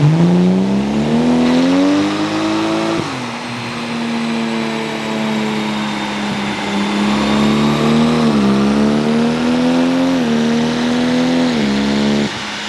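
Mark IV Toyota Supra engine running loud and close on a dyno, a continuous droning roar whose pitch swells and dips as the revs rise and fall.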